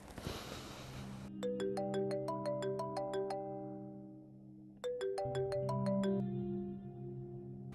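A phone ringtone plays a bright electronic melody of repeated chiming notes in two phrases, clear and close, with a brief noisy rustle at the start and no talking.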